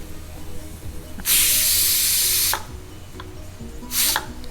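Pressure cooker venting steam while cooking carrot and bean sambar with dal: a loud, sustained hiss of about a second, then a shorter, fainter burst a moment later, with faint kitchen clatter between the bursts.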